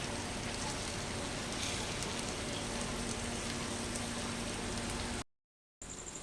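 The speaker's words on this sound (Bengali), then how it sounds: "এবার ঢাকনা খুলে খুলে এবার ভালো করে একটু ভেজে নেব" Rohu fish fries in an uncovered pan with a steady, dense sizzle and crackle that holds constant before a brief drop to silence near the end.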